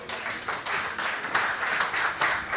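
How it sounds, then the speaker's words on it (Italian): An audience at a charity evening gives steady, moderate applause to welcome an artist onto the stage, a short burst of clapping with no break. "che accoglierei con un applauso"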